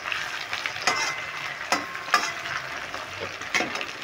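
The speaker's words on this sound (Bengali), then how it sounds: "দেখো পেঁয়াজ আর টমেটো আমি এইভাবে ভেজে নিলাম।" Onion and tomato fry lightly in a pan, giving a steady close sizzle broken by several sharp scraping stirs of a spatula against the pan.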